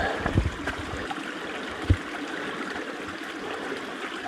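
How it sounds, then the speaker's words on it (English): A creek on rural California land flows with a steady, soft rushing and trickling, close by, with a couple of brief knocks or splashes early on and no talk. "creek flows down here"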